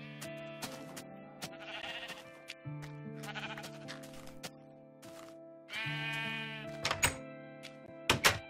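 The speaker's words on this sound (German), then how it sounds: "Mehr Schafe brauche ich eigentlich nicht" Sheep in Minecraft bleat several times in close succession, each call a short wavering baa, interleaved with soft thunks, all fairly quiet and with no talking.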